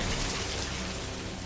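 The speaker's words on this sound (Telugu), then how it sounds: "ఏంటి ఉన్నట్టుండి వర్షం" Sudden heavy rain falls in a dense, loud, even wash of drops, steady throughout with no voices.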